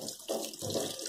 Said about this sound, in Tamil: இப்போ பச்சை தண்ணி ஊற்றி கழுவிடுங்க